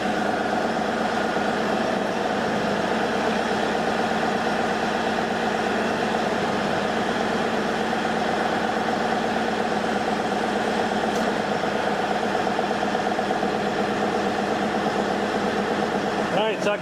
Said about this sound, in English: Now I'm going to have to start up the tractor